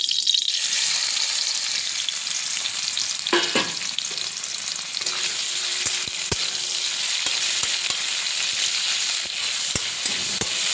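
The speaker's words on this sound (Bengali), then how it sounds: "এবার চিংড়ি মাছগুলো দিয়ে দিলাম।" Shrimp fry in mustard oil in a wok with a continuous close sizzle, broken by scattered sharp clinks and scrapes of stirring.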